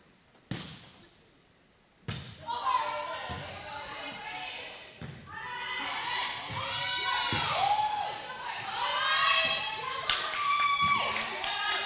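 Crowd noise at a girls' high school volleyball championship match in a gym, a steady roar of cheering, clapping and sneaker squeaks with sharp ball hits and loud bursts rising over a busy, reverberant background.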